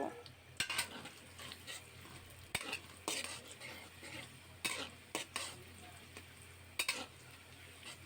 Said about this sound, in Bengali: দেখুন তেলটা গরম হয়ে গেল এর মধ্যে এবার আমি কিছু পেঁয়াজ কুচি দিয়ে দিচ্ছি পেঁয়াজ কুচিগুলোকে আমি একটু লাল লাল করে ভেজে নেব